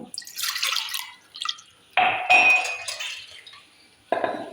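Water splashes and trickles into a bowl in short bursts, with clinks of dishware between pours; fairly close and moderately loud.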